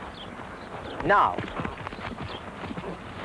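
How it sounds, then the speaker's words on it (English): A young horse breaks into canter, rhythmic hoofbeats on the ground building in pace, partly under someone speaking calmly. "Watch me as I break into canter."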